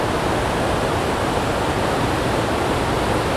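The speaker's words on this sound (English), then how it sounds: "All the heavy rainfall has meant basically that the river is going so unbelievably fast." A fast-flowing river swollen by heavy rainfall roars as a constant, loud broadband rush that stays steady and unbroken throughout, with no voices.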